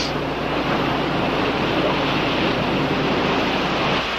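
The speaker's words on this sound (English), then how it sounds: "The waves were higher and harder." Ocean waves surge into a sea cave, a loud, continuous roaring wash of water close by with no breaks, no voices over it.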